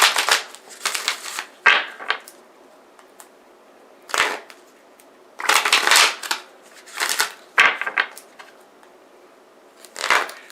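Tarot cards being shuffled in several quick riffling bursts with short pauses between them, close and crisp, no voices.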